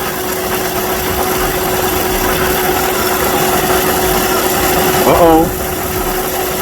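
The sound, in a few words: car engine idling with AC compressor running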